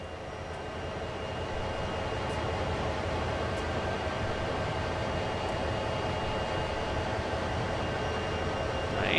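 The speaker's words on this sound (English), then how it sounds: "the train is coasting along" A train coasts along in Train Sim World, a low steady rumble with a faint hum that holds even, fairly quiet throughout with no talk.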